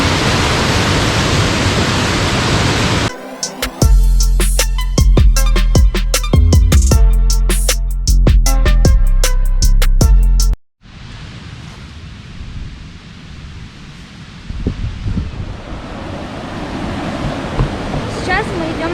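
Belye Mosty waterfall in Karelia roars as a dense, continuous wash of rushing water, loud at first, broken by clattering footsteps on a wooden stairway, then returning as a steady, softer rush.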